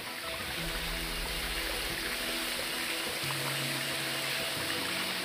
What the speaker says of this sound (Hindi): ऊपर से नीचे पानी गिरता तो एक आवाज़ आती है